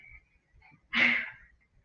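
A single short, sharp sneeze bursts out close by in an otherwise quiet room.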